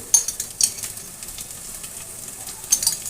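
Ghee sizzles softly in a pan over a low flame while cabbage is cooked, a thin steady frying hiss broken by a few brief clinks and stirring scrapes.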